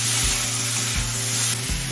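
Water spinach cooks on high heat in a stir-fry, giving a loud, dense, continuous sizzle with occasional low thuds from the pan or stirring.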